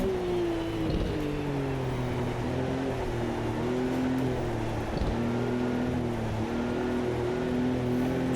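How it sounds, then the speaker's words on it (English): A '74 Porsche 911 in the Automobilista 2 racing game, its engine droning steadily with a brief dip as it lifts and splashes through a puddle at Kyalami, no voices. "Just lift here, go through that puddle,"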